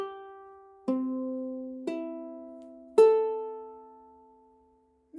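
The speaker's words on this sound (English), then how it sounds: "So what we want is the ukulele to sound like this, from the top to the bottom." Freshly tuned new ukulele strummed slowly from the top string to the bottom, three or four clear ringing chords spaced about a second apart, each decaying cleanly in a quiet room.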